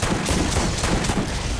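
Rapid automatic gunfire from a high fire-rate gun in the Borderlands video game, a dense continuous burst of shots lasting under two seconds, loud and close with no talking over it.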